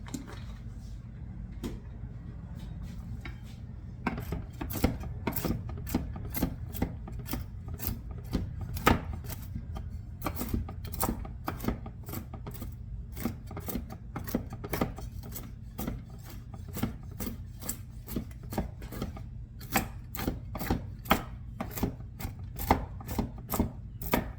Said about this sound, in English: we need 3/4 of a cup of chopped walnuts